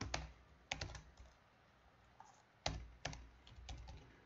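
Code being typed on a computer keyboard: quiet, close key clicks in short uneven clusters separated by brief pauses, with no talking.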